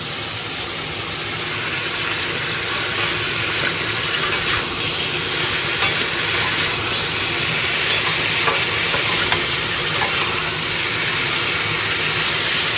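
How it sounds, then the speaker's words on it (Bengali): Chhechra, a Bengali mixed vegetable dish, fries in a pan with a steady, dense sizzle and crackle throughout, with occasional brief stirring ticks over the continuous frying hiss. "এই যে ছ্যাঁচড়া সবজিটা ভাজা হচ্ছে,"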